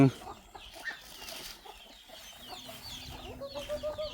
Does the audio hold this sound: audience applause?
no